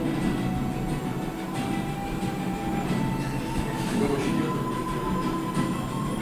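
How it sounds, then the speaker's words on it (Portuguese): A train rolling past on a trekking route in Peru, a dense steady rumble with faint metallic ringing tones and a soft rhythmic clatter, loud and continuous throughout. "às vezes tem horas que o trem tá passando também"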